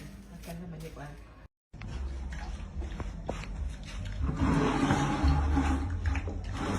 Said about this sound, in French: voici l'eau qui sort du robinet à Brazzaville